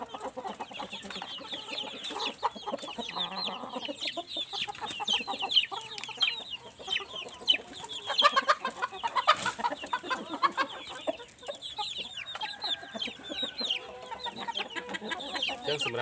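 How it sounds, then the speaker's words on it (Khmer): Breeding hens kept for daily breeding cluck steadily and busily throughout, several birds close by with overlapping calls and no voices. "នេះជាមេមាន់បាទមេមាន់ពូជដែលខ្ញុំទុកបង្កាត់ពូជរាល់ថ្ងៃ"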